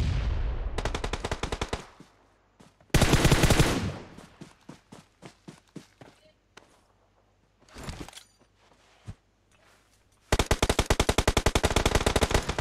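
Bursts of automatic gunfire and single shots in a PUBG-style battle royale esports match, loud rapid rattling volleys separated by quieter gaps with scattered individual reports and faint footsteps.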